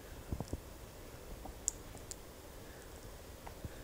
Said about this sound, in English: Click on the verify tab